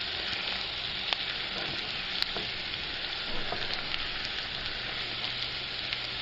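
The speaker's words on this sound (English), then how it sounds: "Just sauteing some onions and some bacon to add into the Alfredo" Onions and bacon sautéing in a pan for an Alfredo sauce, an even, continuous crackling sizzle like light rain with a few faint pops; no voices.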